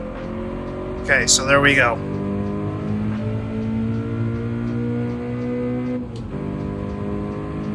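Toyota GR86 race car engine in Gran Turismo 7 holds a steady loud drone with a brief upshift near the end, running under a short burst of talk early on.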